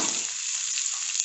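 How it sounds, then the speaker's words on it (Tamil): Chopped onions and green chilies sauté in hot oil for cabbage Manchurian, giving a steady, close, hissing sizzle that holds evenly through a short stretch. "போட்டு நல்லா வதக்கிக்கோங்க"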